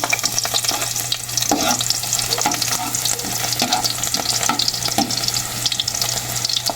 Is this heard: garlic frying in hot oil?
yes